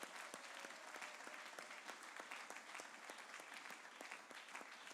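A church congregation applauding at a Sunday worship service, steady rhythmic clapping from many hands that sounds somewhat distant and soft, with no pauses.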